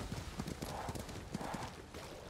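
In Ghost of Tsushima, a horse's hooves clip-clop in a steady rhythm, and a neigh rises briefly above them. A voice is faintly present in the background.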